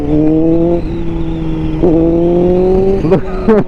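A 2021 Honda CBR1000RR-R Fireblade SP with a flashed ECU revs close up, a loud steady engine drone that rises in pitch, followed by a few quick blips of the throttle near the end.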